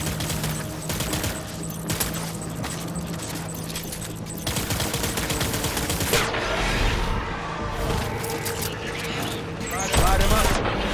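Gunfire in the Death Stranding video game: dense, sustained rattling bursts mixed with booms and other combat noise throughout, with voices calling out between the shots.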